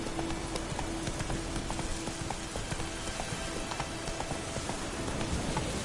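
The horse Roach gallops in The Witcher 3, producing rapid, rhythmic hoof clip-clops that are steady and fairly quiet beneath a rain-like wash of background noise.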